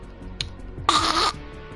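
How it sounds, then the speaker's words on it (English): A single harsh cough bursts out, preceded by a brief throaty catch, against a quiet background; close and fairly loud. "Sorry if I'm coughing."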